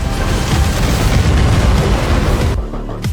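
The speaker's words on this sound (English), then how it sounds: "In an instant, a massive explosion destroyed the soldiers' entire defense line." A massive explosion rips through a soldiers' defense line after a gasoline canister is hit in an ape war battle scene, a loud sustained roaring boom filling nearly three seconds before cutting off abruptly into quieter rumble.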